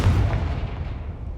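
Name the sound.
Confringo fire blast spell cast in Hogwarts Legacy video game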